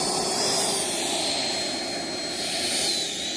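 A Freewing Avanti S 80mm electric ducted fan sport jet, an RC model powered by a 6S LiPo, flies by outdoors on a windless day with a continuous whooshing turbine-like roar that swells slightly and holds steady throughout.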